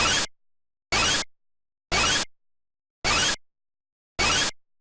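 Jump sound effect from the Dragon's Lair: The Legend video game, a short burst heard five times in a steady rhythm about once a second, loud and isolated with silence between each.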